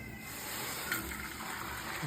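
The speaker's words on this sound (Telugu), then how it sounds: "చూడండి ఇప్పుడు హాట్ వాటర్ వేసేస్తామండి" Hot water poured into a pot of cooked dal, a faint, steady gushing trickle of liquid heard close up and quietly over the whole short stretch.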